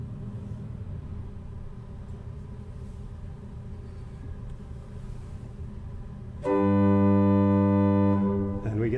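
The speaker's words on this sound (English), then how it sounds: "Listen for the blower motor." The electric blower motor of an old 18th-century church organ switches on, and a low room rumble gives way to a loud, steady, droning harmonic hum that holds for a few seconds.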